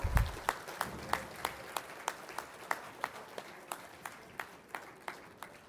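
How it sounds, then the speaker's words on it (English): Audience applause for dual degree graduates at a department degree ceremony, a steady patter of many hands clapping with regular sharp peaks throughout, fairly near and without talk. "Let's give a big round of applause to all our dual degree graduates."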